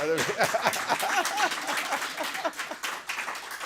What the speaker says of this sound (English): Get the crowd clapping.